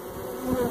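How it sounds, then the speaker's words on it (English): Honey bees buzzing inside a hollow bee tree, a close, continuous droning hum that swells slightly toward the end. "There is a lot of bees in here."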